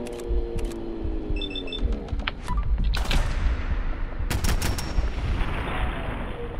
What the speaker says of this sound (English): It's a freezing gun, you asshole.